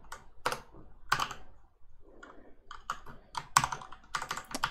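Numbers typed on a computer keyboard: close, crisp keystrokes come singly and in short irregular bursts, separated by brief pauses, with no talking.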